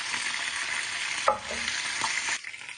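Kikiam, a Filipino street food, deep frying in hot oil with a loud close sizzle, interrupted by a few sharp scraping stirs before the sizzling drops away at the end.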